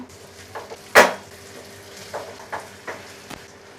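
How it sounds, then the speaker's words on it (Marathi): Goat brain being flipped over in a frying pan during preparation of a mutton thali: one sharp clatter and hiss as it turns, followed by a few soft taps and light sizzling, close and without talk. "भेजाची दुसरी बाजू आहे ना ती पलटून घेऊया"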